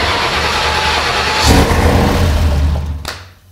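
A newly installed turbocharged Ford engine in a Lincoln cranks and fires up, a loud steady low engine rumble with a surge at the start and a rougher burst near the end before it dies down.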